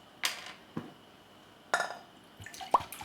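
Distilled white vinegar trickling from a bottle, heard as a few separate, fairly quiet drips and small splashes with pauses between them, with no talking.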